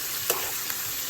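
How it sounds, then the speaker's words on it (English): Ingredients for ackee and saltfish sauté in oil, giving a steady close sizzle with a couple of light utensil taps in a brief moment. "you're going to just keep sauteing this for a few more minutes."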